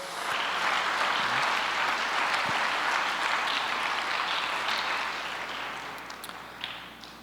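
Congregation in a church applauding, sustained broad clapping from many hands that swells at first and gradually thins and softens toward the end, with a few scattered sharper claps.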